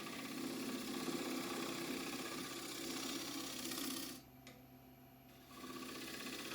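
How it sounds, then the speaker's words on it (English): A wood lathe spins a roughed-out bowl while a gouge makes a pull cut, a steady close whirring hum with scraping cut texture that drops away briefly near the end, then resumes. "now I'm using a pull cut to work that corner down a little bit"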